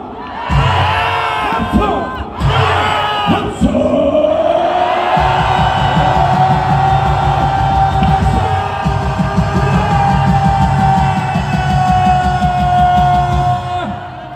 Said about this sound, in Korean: 이 일대가 울리게 봅시다. 함성!